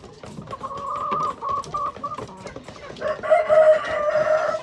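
Mardi chickens in a coop cluck repeatedly, then a rooster crows loudly near the end, with scattered clucks and squawks throughout.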